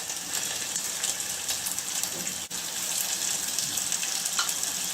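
Onions sizzling in hot oil in a pan after asafoetida, ginger and chillies, while cooking sambar: a steady, bright frying hiss throughout, fairly close, with no talking.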